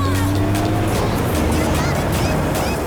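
A Jawa 638 motorcycle engine drones loudly and steadily while riding, with wind rushing past the rider close up.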